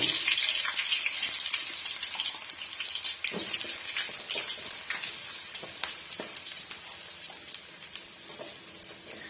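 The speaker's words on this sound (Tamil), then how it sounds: "இப்போ இந்த எண்ணெயிலே நம்ம போட்டு வதக்கலாம்" Potato slices fry in hot oil for a potato varuval side dish, giving a steady, fairly loud sizzling hiss with a few faint clinks and stirring sounds throughout.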